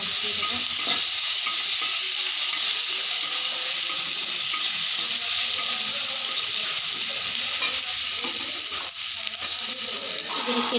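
Onions and green chillies sizzle in hot oil, a dense, steady hiss that stays loud and close throughout, with faint stirring scrapes underneath.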